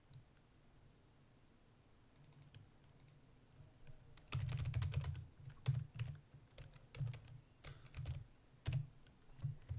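Typing on a computer keyboard while coding a Python lesson, quiet at first, then a steady run of close, sharp key clicks with irregular bursts and no talk.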